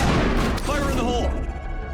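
A grenade in Mass Effect goes off as a loud, close blast, followed by rumbling debris and a short ringing tail. Voices talk over the noise.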